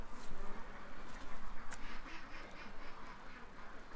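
Four drakes quack in a steady, repeated chatter at moderate distance outdoors, their calls rising and falling over a faint background hiss with no voices.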